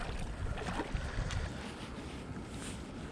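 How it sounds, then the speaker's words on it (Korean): Strong wind buffets the microphone on a bass-fishing boat on open water, a steady broadband roar with gusts swelling and easing throughout, continuous and close, with no voices. "바람이 너무 많이 불어서"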